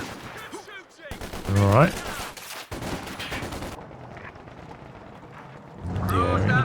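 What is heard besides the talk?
Vickers machine guns firing in Company of Heroes 2 video game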